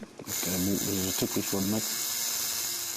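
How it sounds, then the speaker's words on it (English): A tattoo gun buzzes steadily while recolouring a Māori moko, a close, continuous mechanical whir that runs through the whole stretch, with a voice talking over it in the first couple of seconds. "having parts of his 8-year-old moko recoloured, some with the tattoo gun"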